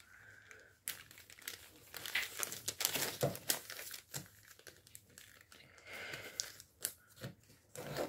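Paper being folded into an origami dragon, with repeated crisp crinkling and creasing rustles at close range, starting after a brief pause and continuing in irregular bursts with no talk.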